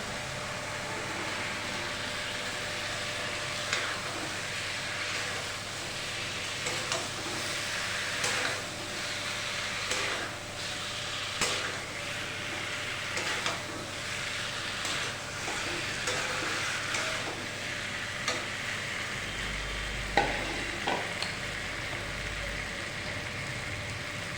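Taro and potato pieces go into hot spiced oil and fry with a steady, moderate sizzle, broken up by repeated soft stirring scrapes and a few sharper clinks, with no talking.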